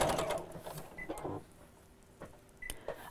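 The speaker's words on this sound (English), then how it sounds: "So bear with me while I'm sewing straight lines" Domestic sewing machine stitching straight lines on a fabric door storage pouch, short whirring bursts separated by pauses, close and fairly quiet, with someone talking over parts of it.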